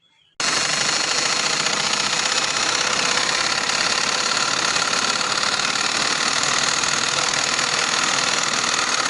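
A sewing machine stitches fabric for a summer frock, starting abruptly and then running in one loud, steady, rapid mechanical drone that continues without a break.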